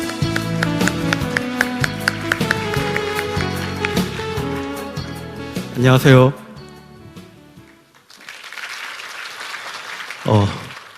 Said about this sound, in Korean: 역시 큰 박수로 모시도록 하겠습니다.